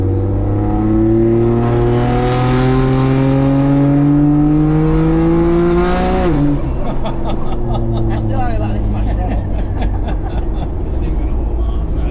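A turbocharged Barra-engined 80 Series Land Cruiser on a road test drive revs up through rising harmonics, then drops off and settles as the gearbox, stuck in third, holds it; the engine is loud and close, with muffled road noise.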